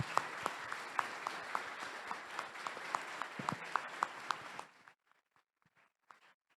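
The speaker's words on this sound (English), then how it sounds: "Let's give him a round of applause." An audience applauds an award winner at a robotics open house, with dense steady clapping and a few louder individual claps, fading out after several seconds to near silence.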